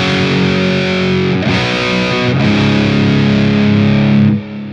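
An electric guitar played through an amp with no pedal engaged rings out as sustained, thick chords, loud and close, with a couple of chord changes before a quick cutoff near the end.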